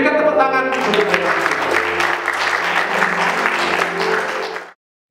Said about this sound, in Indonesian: Berikan tepuk tangan untuk mereka.